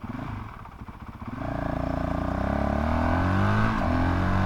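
Honda CRF450RL motorcycle engine starting up near the listener, a low choppy idle that rises into a steady, building rev, holding a strong, even drone to the end.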